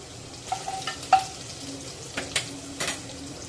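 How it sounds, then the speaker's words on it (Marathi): Crushed garlic and ginger hitting a hot pan for crab curry, giving faint sizzling with scattered sharp crackles and stirring clicks close by, no talk. "लगेच त्यामध्ये आपण टेचलेलं लसूण घालायचं आहे थोडस आलं घेतलेलं आहे"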